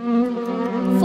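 Cartoonish buzzing of flies in a children's video game, a loud, close, steady droning hum lasting about a second.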